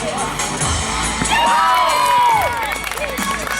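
A crowd cheers and whoops after a prize is awarded at a youth 3x3 basketball championship, loud, dense and sustained, with the excited voices swelling near the middle.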